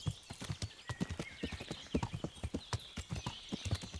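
Horse hooves clip-clopping over rough terrain in Kingdom Come: Deliverance, a steady quick rhythm of close, distinct hoof strikes with brief snorts, alone without talk.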